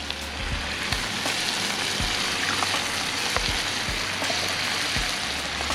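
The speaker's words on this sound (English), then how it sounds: "We're gonna add that crushed tomato." Crushed tomato hitting a hot pan for fresh clam pasta sauce cooked outdoors on a mountain peak, a loud, dense, steady sizzle with frequent sputtering pops and stirring scrapes, close up and with no voices.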